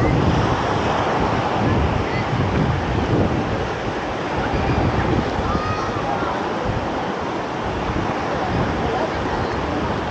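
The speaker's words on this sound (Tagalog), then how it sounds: "Ang lakas pa rin ng alon." Strong ocean waves breaking on Boracay beach, a loud continuous roar of surf with wind buffeting the microphone throughout.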